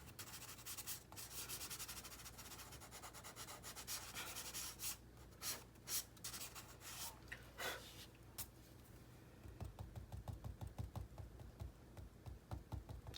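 Charcoal rubs softly against drawing paper while a shadow is shaded in, giving a faint, continuous scratchy hiss that turns into quicker rhythmic strokes toward the end, with no talking.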